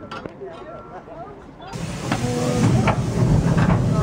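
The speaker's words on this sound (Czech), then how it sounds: "Přikládání do parní lokomotivy." A steam locomotive on the Laxey mine railway, Isle of Man, hisses and rumbles as it is stoked; after a quieter start with faint voices, a loud rush of steam and clanking swells and holds steady.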